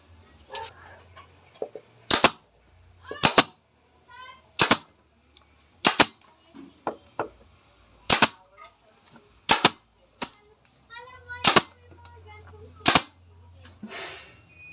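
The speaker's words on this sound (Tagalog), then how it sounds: "Yung tinatawag nating, ayan, gun tacker talaga. Air gun tacker." Air gun tacker stapling a motorcycle seat cover, about ten sharp loud pneumatic snaps at irregular intervals of roughly one to two seconds, with quiet handling sounds and a low hum between them.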